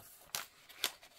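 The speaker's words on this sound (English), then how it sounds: "Now we just got to trim it." Scissors trim a decorated paper envelope in a craft setting, making two quick, faint, close snips about half a second apart in a quiet room.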